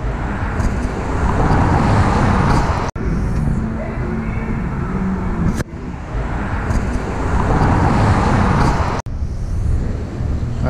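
Cars on a road near Daytona Beach, Florida, pass by in a steady stream of close tyre and engine roar, three swelling passes broken by brief dips, with no talk.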